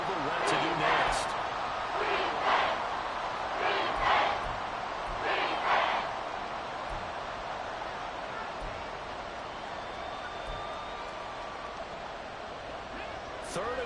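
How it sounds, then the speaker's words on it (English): A large stadium crowd in the American football video game Madden 24 roars and cheers steadily during a Ravens vs Falcons game, with rhythmic swells of noise in the first half that ease into a sustained background din. "This crowd urging on their defense. They're up and making noise."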